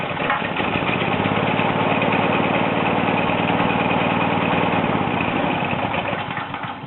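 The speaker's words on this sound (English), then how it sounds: "the generator should start pretty easily" Generac GP5500 generator engine running with a steady, loud, rough mechanical chug close by, no speech over it.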